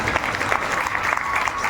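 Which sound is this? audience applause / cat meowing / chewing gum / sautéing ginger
audience applause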